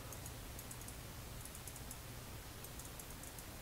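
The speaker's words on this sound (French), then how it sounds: "Vraiment, ton clavier il est rouillé, mec!" Rapid clicking of computer keyboard keys, a steady flurry of light taps running the whole time under a constant low hum, fairly quiet and close.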